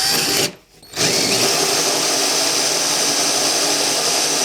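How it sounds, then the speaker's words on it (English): A 5/16 twist drill boring holes into a wooden countertop cutout for a sink, a loud continuous whining drill with a brief pause between holes, close up and with no talking. "That's just a 5/16 twist drill there"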